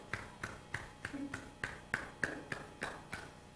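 A single hand clapping, about a dozen sharp, quiet snaps at a steady, even rhythm, close by in a quiet room.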